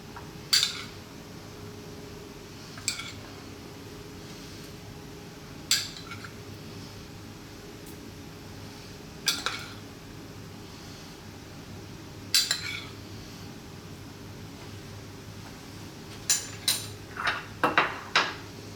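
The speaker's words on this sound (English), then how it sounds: "I'm just going to spoon on some of our nuts and dried fruits." A spoon clinks against a dish while scooping nuts and dried fruits onto chicken kabsa, a handful of sharp, scattered metallic taps separated by quiet pauses, with a cluster of quick clinks near the end.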